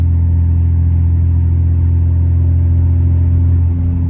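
A second-generation truck with a swapped 6.7 Cummins diesel and GT42 turbo, towing about 15,000 lbs uphill in fourth gear, gives a loud, steady, deep engine drone and rumble that eases slightly near the end.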